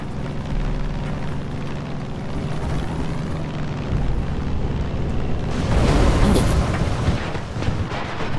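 Plane engine in the video game Far Cry 5, a steady loud droning hum that swells with a rushing, rumbling burst near the end, no talk over it.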